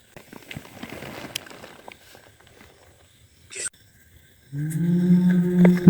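A loud, low cow moo swells up near the end and holds for over a second, following a stretch of quieter rustling background noise in a forest at night.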